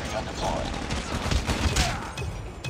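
A sentry gun in a first-person shooter video game fires a rapid burst of loud gunshots, with further shots and battle noise close by in a brief, chaotic stretch.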